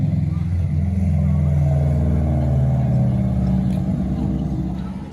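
Car enthusiasts' cars drive and rev along Plymouth Hoe, a loud, steady engine rumble passing close by that fades out toward the end.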